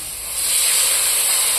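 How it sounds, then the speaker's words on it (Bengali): Water hits a hot pan of rohu fish curry with a sudden loud hiss that swells and holds as a steady, close steamy rush. "আর আমি এখন জল দিয়ে দিচ্ছি,"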